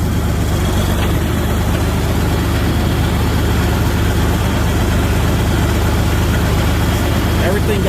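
A 1972 John Deere 4320 tractor engine runs steadily at low throttle, a loud continuous diesel rumble close to the microphone with no breaks.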